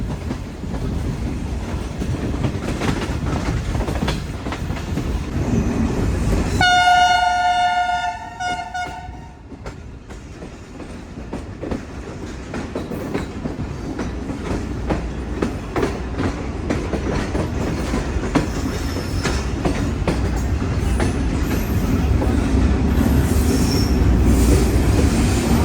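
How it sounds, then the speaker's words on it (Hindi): The Bahauddin Zakariya Express approaches Landhi Junction station at night with a steady rumble of rolling wheels and rail clatter, broken by a long horn blast early on, then continuing clickety-clack and squealing wheels. "ये जी दोस्तों ट्रेन हमारी लांडी जंक्शन रेलवे स्टेशन पर अप्रोच बना रही है इस वक्त"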